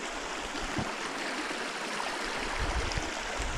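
Kershope Burn, a stream running gently after a few dry days, a steady broadband rush of flowing water heard at a crossing point, close and continuous.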